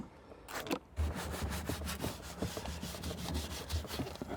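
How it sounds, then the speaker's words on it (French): A small, stiff brush scrubs a worn leather car steering wheel in quick, rhythmic back-and-forth strokes, close and fairly quiet, each stroke a short rasping scratch. "j'ai pris une brosse plus petite, plus dure, et puis il n'y a plus qu'à frotter"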